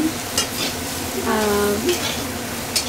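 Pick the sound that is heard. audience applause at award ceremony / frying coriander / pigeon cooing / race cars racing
frying coriander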